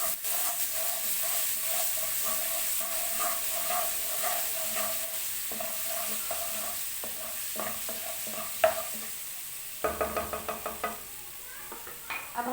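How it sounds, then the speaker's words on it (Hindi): Ginger garlic paste frying in oil in a kadai for kastoori kabab: a steady close sizzle with scraping and clinking stirring strokes, and a quick run of louder stirring clatter toward the end. "इसको थोड़ा सा हम भून लेंगे"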